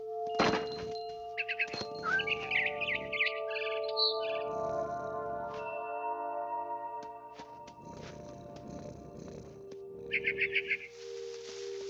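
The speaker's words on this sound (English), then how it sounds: "Then I heard chirping outside my window. It was a barn swallow going back to her nest." A barn swallow in What Remains of Edith Finch gives short bursts of high chirps near the start and again near the end, set against quiet ambient game sounds and soft thuds.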